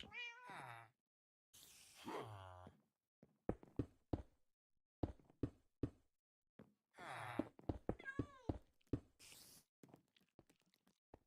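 A cat in Minecraft meows repeatedly, several distinct drawn-out mews separated by pauses, close and clear, with soft clicks and thumps between calls.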